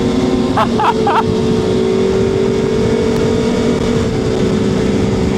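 A 2025 BMW S1000RR motorcycle engine drones steadily and close, with constant wind rush and a few brief chirps near the start.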